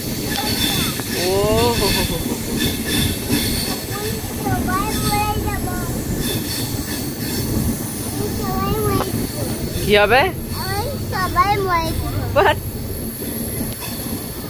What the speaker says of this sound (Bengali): ট্রেনটা গুড়ু গুড়ু করছে।